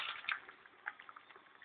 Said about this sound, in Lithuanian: Verdant aukščiausios ugnies.